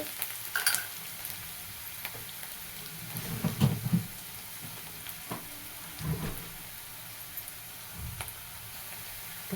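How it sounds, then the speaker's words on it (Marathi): Onion sautéing in a pan for a Gudi Padwa thali, a steady low sizzle with a few louder stirring scrapes, close and continuous with no talking. "आता आपण ह्याला चांगलं परतून घ्यायचं मस्त अशी एकच नंबर कांदा लाल होईपर्यंत"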